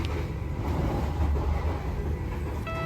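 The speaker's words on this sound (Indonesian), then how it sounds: "rangkaian berguncang cukup kencang ya teman-teman, dipacu di atas 100 km per jam" Sixty-year-old Menoreh train carriages rattle and rumble steadily at over 100 km/h, a loud, continuous low roar with faint high squeal and clatter riding over it from start to finish.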